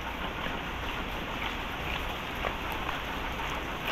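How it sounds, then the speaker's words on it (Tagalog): Heavy rain falling outdoors, a dense, loud, continuous hiss of drops drumming on surfaces without any break. "Ngayon naman siguro po yung ito na yung pinakamalakas po na ulan dito"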